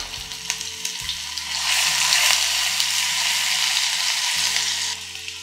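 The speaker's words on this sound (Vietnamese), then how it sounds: "mình sẽ cho 1 muỗng canh gốc hành lá với hành tím vào để phi cho nó thơm lên" Scallion roots and shallots fry in hot caramelized sugar in a clay pot, a steady close sizzle that swells louder midway and eases off near the end, with no talking.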